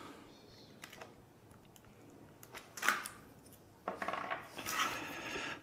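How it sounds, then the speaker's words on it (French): A utility knife slices off the protruding edges of taped playing cards, giving a few soft scrapes and clicks, then a louder burst of rasping cuts near the end, close and without talk. "Avec le cutter, je vais couper les parties qui dépassent."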